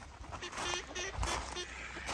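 Mallard ducks quacking on a lake at a nature reserve near Rossall Point, a few short nasal calls over steady wind and water noise, with other waterbirds such as swans nearby.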